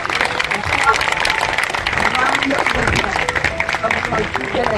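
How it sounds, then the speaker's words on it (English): Audience applause at a fundraiser luncheon, a steady wash of clapping filling the room with some crowd murmur and voices mixed in throughout. "Give her a big round of applause"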